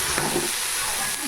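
Cabbage leaves and green beans fry in a pan with a steady, bright sizzle and hiss, close and continuous for a brief moment, with a faint low murmur underneath.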